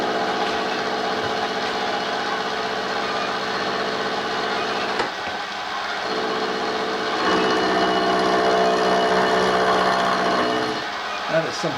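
A pipe hole saw on a drill press grinds through hard material, a loud steady motor drone with harsh tonal chatter that eases briefly and then bears down again, close by.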